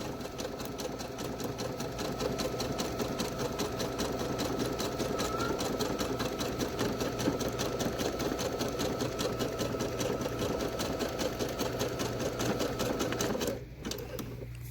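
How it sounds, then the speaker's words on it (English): A sewing machine zigzag-stitches down a face mask seam allowance, a continuous rapid rattling hum heard up close that runs for about thirteen seconds and then stops abruptly. "I'm just going to stay in my seam allowance and zigzag this thing down"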